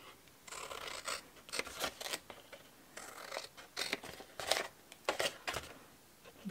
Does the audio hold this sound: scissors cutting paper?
yes